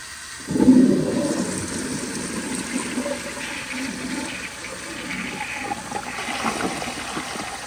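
A 2001 Kohler Tyrrell service sink flushes with a sudden loud whoosh of water that rushes down, then settles into a long steady gurgling refill and trickle, heard close with no speech.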